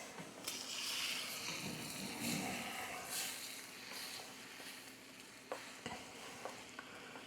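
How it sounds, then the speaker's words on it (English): Breakfast food frying in a pan, stirred off the heat: soft scraping stir strokes over a steady low sizzle, fairly quiet and close, with a few sharp clicks toward the end. "So I'm taking it off heat to stir, and then I'll put it back on heat."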